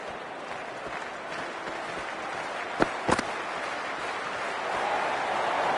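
A large crowd at a cricket match between India and Australia makes a steady, broad roar of cheering and chatter. A couple of sharp claps or pops cut through briefly near the middle, and the noise swells slightly toward the end.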